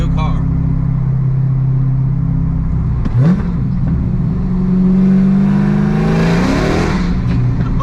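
A 6-speed manual-swapped Dodge Hellcat Charger's supercharged engine drones steadily while driving, then revs up in rising sweeps, loud and close from inside the cabin.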